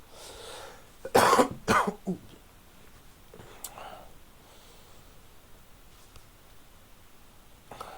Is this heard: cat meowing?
no